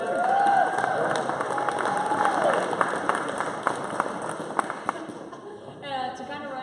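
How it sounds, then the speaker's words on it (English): Audience applauding a visiting Worth County Future Business Leaders of America group at a 1 Million Cups Kansas City pitch event, a steady wash of clapping and crowd noise that holds for several seconds, then thins as talk begins. "Let's give them a round of applause."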